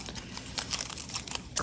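Strips of cut-off paper crinkled by hand, giving close, dry crackling and rustling in irregular bursts with a few sharper crunches, no voices.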